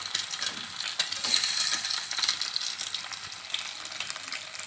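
Eggs frying in a pan for egg fried rice with tomato, a bright crackling sizzle close by with occasional soft scrapes and clicks as the eggs are turned in large pieces.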